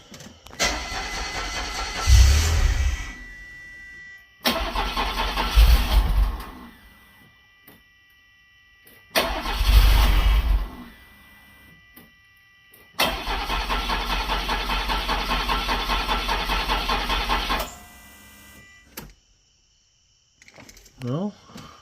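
A DeLorean engine cranks in four long bursts separated by pauses, the starter churning loudly without catching after a fuel feed line repair, with the last attempt running longest.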